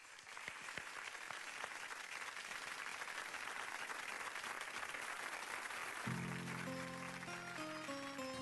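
An audience applauding at a live music show, steady dense clapping held at a faint, distant level, with a sustained musical tone entering near the end.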